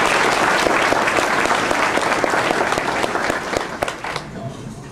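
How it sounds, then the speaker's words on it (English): Crowd applause at a political rally in Spartanburg, loud sustained clapping with sharp individual claps standing out, fading slightly toward the end. "give them a round of applause."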